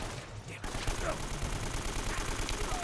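Sustained automatic AK rifle fire in the video game Uncharted, a dense run of overlapping shots holding steady for a few seconds with a voice shouting faintly underneath.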